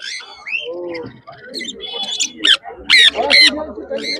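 Sun conures and other exotic birds at a pet market squawk and chirp loudly nearby, with shrill bursts rising over a busy mix of calls, while people talk underneath.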